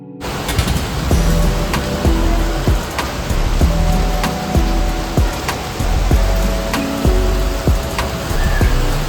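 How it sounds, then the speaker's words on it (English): Heavy rain pours down at home, a dense loud hiss with scattered sharp drips and taps over the whole stretch. "it is raining crazy"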